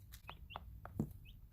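Three young chickens peep and cluck in short, separate chirps close by, soft and scattered with brief pauses and one dull knock among them.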